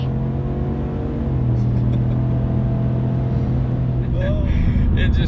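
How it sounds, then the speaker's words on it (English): A 5.0 V8 vehicle in two-wheel drive pulls hard, its engine rumbling loud and steady as it builds revs while the tires spin, a continuous close roar with a brief higher squeal near the end. "All right, let's build some power, two-wheel drive, see what she does."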